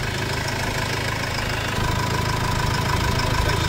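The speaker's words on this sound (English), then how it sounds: "It's got a K&N filter on it, which I think will affect the sound of the engine." A Subaru Outback engine with a K&N filter, excess blow-by and a P1469 DPF fault idles steadily with a low, even rumble and a faint rhythmic knock, close by and with no talking.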